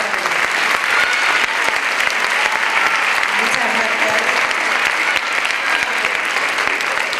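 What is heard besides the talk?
audience applause for Consuelo at a festival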